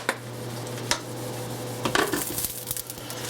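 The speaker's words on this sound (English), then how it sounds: "we can combine them all together so they start to flavor each other" A utensil scrapes and clinks against a pan while stirring browned hamburger, mushrooms and onions, with a few sharp knocks over a soft sizzle.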